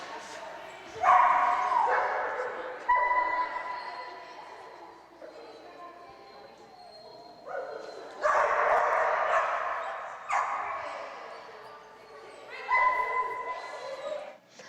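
A dog barks, yips and whimpers in short bursts during toy-tossing training, fairly close, while a trainer talks over much of it.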